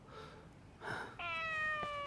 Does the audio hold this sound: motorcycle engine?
no